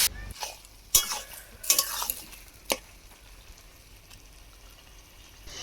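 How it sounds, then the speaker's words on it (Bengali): Boiled taro and spice masala frying in a pan while being stirred, a few sharp scraping strokes over a faint steady sizzle, close and moderately loud, then quieter simmering with no voices. "তারপরে ভালো করে সারকচু আর মশলাটা এক জায়গায় কষিয়ে নেব সুন্দর করে"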